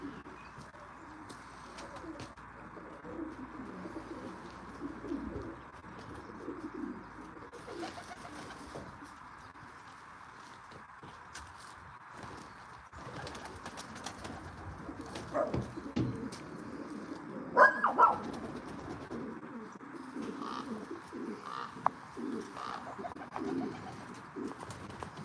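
Racing pigeons cooing softly at a loft, low murmuring coos spread through a noisy outdoor background, with scattered wing flutters and a brief louder burst midway.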